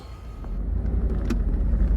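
A Pontiac Trans Am with an LT1 engine and T56 manual transmission drives on a test run after a clutch swap, its low engine rumble building steadily from inside the cabin with faint clicks.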